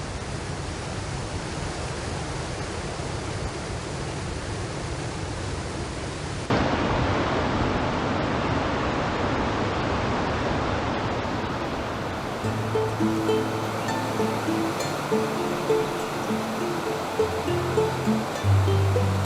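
Water pouring down karst cascades into pools formed from collapsed caves, a broad steady rush that grows louder partway through, with a low rumbling hum joining in later.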